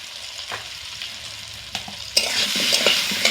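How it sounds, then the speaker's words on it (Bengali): Pointed gourd and prawns frying in a pan with salt and turmeric, a low steady sizzle with occasional stirring clatter, growing into a louder, brighter crackling fry toward the end. "এবার একটু ঢাকা দিয়ে এগুলো ভেজে নেব।"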